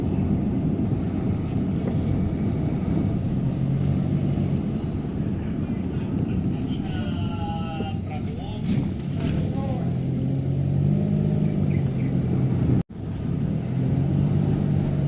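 Cars pass continuously along a road through the village of Malalau beside Lake Singkarak, a steady engine rumble with vehicles swelling by, while a person talks over the traffic.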